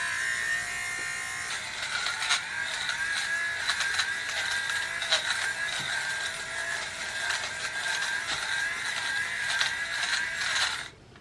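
An electric fabric shaver runs over a sweater, giving a steady close whirring buzz with a gritty, ratcheting texture and small clicks as its blades catch pills, switching off abruptly near the end.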